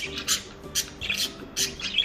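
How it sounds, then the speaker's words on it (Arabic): Bursts of shrill, squawky chatter from a budgerigar flock come in quick clusters, close and fairly loud, the birds calling back and forth. "فيمكنك تشغيل مقطع محاكٍ لصوت قطيع طيور البادجي"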